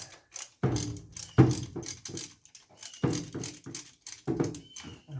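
Metal ratchet clicks in repeated bursts as bolts are loosened on a 1972 Buick Skylark engine during belt removal, close and fairly loud with short pauses between strokes.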